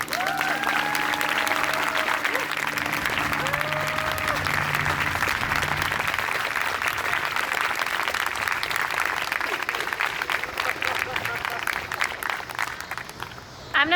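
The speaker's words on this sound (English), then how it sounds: "Round of applause again for Carmen." Sustained applause from an audience at a people's town hall, dense steady clapping that carries at full strength for most of the stretch before thinning near the end, with voices faintly beneath.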